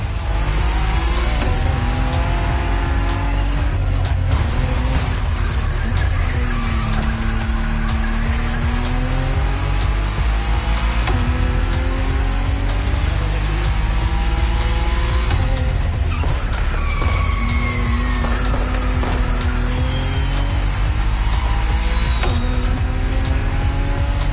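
A Nissan GT-R race car with a heavily modified body kit races hard, its engine roaring continuously while tires squeal through repeated slides, loud and close, with other engines around it.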